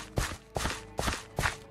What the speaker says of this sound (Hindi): तभी उसने अपने पीछे किसी के पैरों की आवाज सुनी।